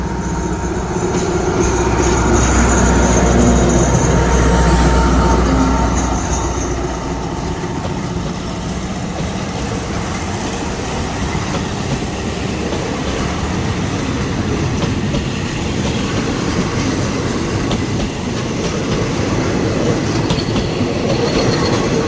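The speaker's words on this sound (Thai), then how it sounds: "ปล่อย112 ออกก่อนนะครับ เดี๋ยวไปแซงกันแน่นอนครับ" Trains 112 and 76 at Ayutthaya station in Thailand rumble loudly and continuously, with heavy low engine drone, rolling wheel clatter and occasional squeal, close by and with no talk.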